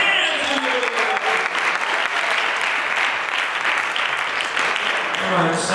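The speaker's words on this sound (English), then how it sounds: "Clap your hands." Church congregation clapping hands during a sermon, a loud, continuous wash of applause with a faint voice briefly audible beneath the clapping.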